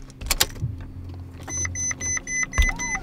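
A Mercedes SLS Gullwing starting up: a low engine crank and catch near the start, then a steady idle hum with a rising whir and a few clicks, close and fairly loud.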